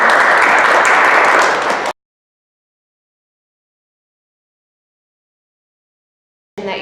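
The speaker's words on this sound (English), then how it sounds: "Can we give her a round of applause for coming?" Audience applause from a community candidate roundtable, a dense burst of clapping for about two seconds, then silence before a brief return at the end.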